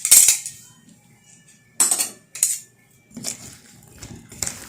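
Two spoons clink and scrape against a platter in several short bursts while karela pickle is tossed and mixed, metal-on-dish clatter close by with quiet pauses between strokes.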